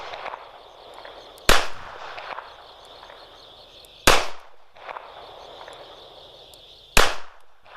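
Three sharp, loud gunshots from a Smith & Wesson 642 snub-nose revolver fired one-handed, spaced about two and a half seconds apart, each a sudden crack with a short ringing tail over steady background hiss.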